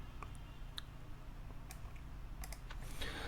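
Faint, scattered keystrokes on a computer keyboard while entering a regular expression pattern, a few light taps spread unevenly with a slightly denser burst near the end, over a steady low hum.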